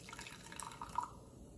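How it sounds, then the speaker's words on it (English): SunnyD hard seltzer trickles and drips as a small amount is poured out, a faint, brief splash of liquid heard nearby without speech. "I'm actually gonna pour a little out to see if we have any color here."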